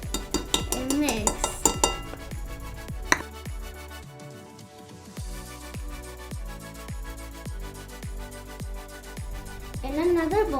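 Cocoa powder being stirred into chocolate banana cupcake batter in a bowl, a steady run of clinking, scraping strokes close by, with talk partly over them.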